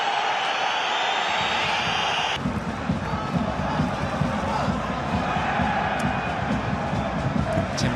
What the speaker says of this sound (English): You can hear the crowd and you can hear what they want